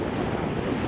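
Waves break along a beach where the tide is coming in and kites fly overhead, making a steady, loud wash of surf and wind rush with no voices.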